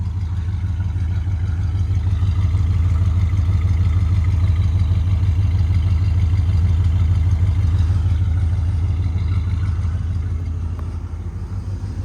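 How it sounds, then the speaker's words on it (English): A steady, deep engine rumble from a 1973 Chrysler Newport Custom's exhaust at idle, constant and close, with no voices. "I guess we can hear that exhaust note while we're back here."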